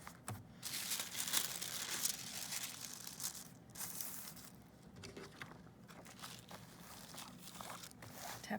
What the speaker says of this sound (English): I'm gonna take the paper off.